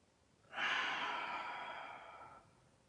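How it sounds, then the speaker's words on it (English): A single deep breath drawn in and slowly let out, a long, fairly close sigh-like rush of air lasting about two seconds with no talk. "Take a deep breath."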